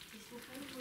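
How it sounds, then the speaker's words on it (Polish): Potato tartun fries in a pan with a faint, steady sizzle and crackle, heard close up under a low murmur of voices. "Skwierczy."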